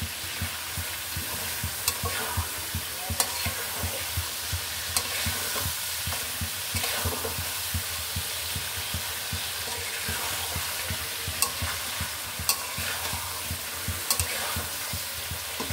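Chicken meat being sautéed and stirred in a pan, with a constant sizzle and a steady rhythm of spatula scrapes and knocks against the metal that recurs up close for a long stretch.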